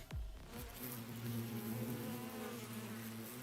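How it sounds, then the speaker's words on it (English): Bees buzz steadily in The Hundred Line: Last Defense Academy, a close, continuous droning hum with a low thump at the start, holding at even loudness throughout with no talk. "Oh god, the fucking bees are back."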